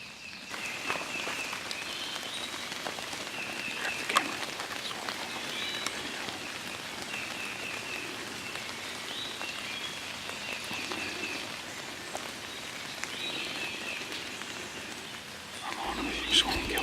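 Steady rain falling in the woods at dawn during an Ohio turkey hunt, a dense, even patter on leaves and gear that continues without a break.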